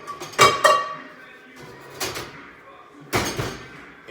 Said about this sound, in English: I'm putting my pots together, right?